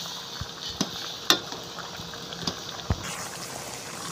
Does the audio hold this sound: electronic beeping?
no